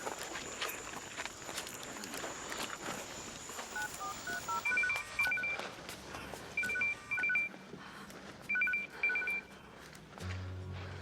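A telephone being dialed for a call: bursts of quick electronic keypad tones in short clusters, with footsteps and faint background rustle between them, moderately near.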